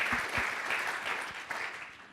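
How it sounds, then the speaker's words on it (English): A conference audience at the Sitecore Symposium 2018 claps steadily for a couple of seconds. The applause is dense and even, as from a sizable crowd in a hall. "I'm going to do one round of applause"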